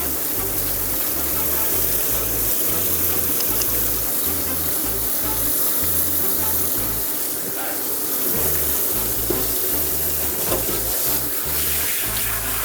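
Water running steadily from a hose or tap while a Mini Groodle, a golden retriever and poodle cross, is bathed at a mobile grooming session, a continuous close wash with a low rhythmic pump thumping underneath.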